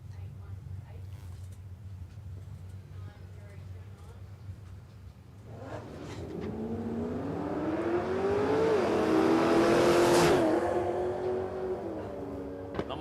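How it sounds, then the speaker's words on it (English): Drag race car accelerating down the strip at Warwick Dragway, its engine note rising through gear changes with brief breaks between gears, growing louder and passing near before fading, over a steady low background hum. "one of the cars out there sounded like it popping as it's going through the gears"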